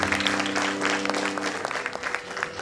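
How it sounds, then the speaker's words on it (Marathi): Audience applause fills the hall after a devotional vocal performance, steady dense clapping that thins slightly toward the end, with no voices over it. "वा जोरदार टाळ्या"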